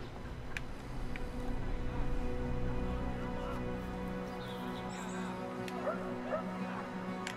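A dog in Brothers: A Tale of Two Sons barks and yips repeatedly in an agitated, rhythmic series, fairly close, with whimpering notes mixed in over a game ambience.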